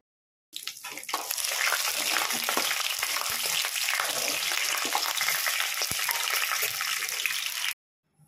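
Chana dal, urad dal, peanuts and cashews fry in hot oil for semiya upma, giving a loud, steady sizzle that starts abruptly and holds evenly for about seven seconds before cutting off.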